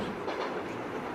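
Train carriage rolling and clattering over rails, a steady near rumble with faint rhythmic clicking throughout, no voices.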